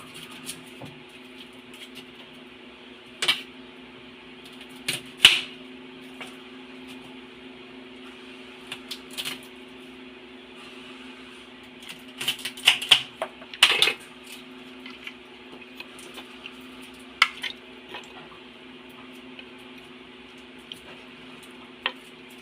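Whole garlic cloves hiss and sizzle faintly in a hot pan for a humba dish, with a low steady hum underneath and scattered sharp clinks and stirring scrapes at irregular intervals.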